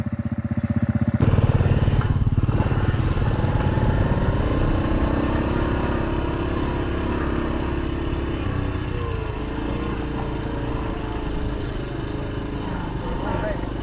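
A Honda CT110 Postie Bike idles steadily after a jump start, its small engine chugging close by in a constant loud drone.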